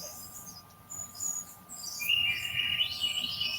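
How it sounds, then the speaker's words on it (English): Chirping bird sounds from an alarm clock, starting soft and building in loudness, with bright tweets layered over a steady electronic tone. "Bird sounds? Starts off faint. Birds get louder."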